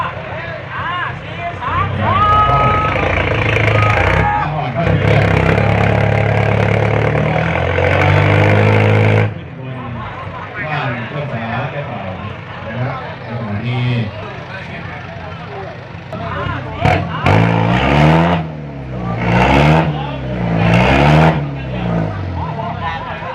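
A tractor's heavy engine roars and strains continuously, revving up and down while pulling a sound-system truck stuck in rain-soaked mud, with people talking and shouting nearby throughout.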